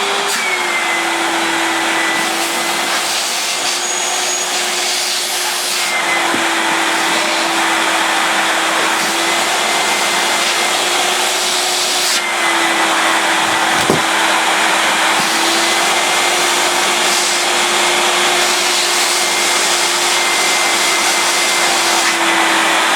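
An Electrolux Automatic G vacuum cleaner runs continuously, pulling suction through leaky hoses with a loud, steady motor whine and airy rush, plus a brief dip and a few small bumps along the way.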